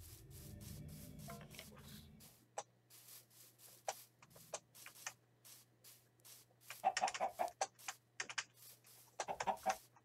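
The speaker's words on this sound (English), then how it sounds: "Just a bunch of chickens." Video game chickens cluck in short, scattered bursts over a quiet, low hum, with soft tapping sounds in between.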